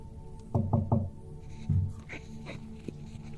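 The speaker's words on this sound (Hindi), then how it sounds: "सयाद ने कार का दरवाजा खटखटाया" Knocking on a car door as a horror story sound effect: three quick knocks, a pause, then another knock and fainter taps, close and solid against a quiet background hum.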